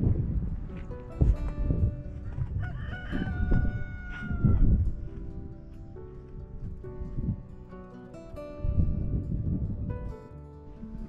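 A rooster crows a few times at a moderate distance, with outdoor ambience and scattered other animal noises around it.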